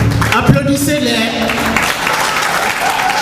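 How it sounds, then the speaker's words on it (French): Audience applause for performers of traditional African and Ivorian dance at a tribute ceremony, a dense, steady wash of clapping with some voices and cheering mixed in, lasting throughout. "Donc, applaudissez-les"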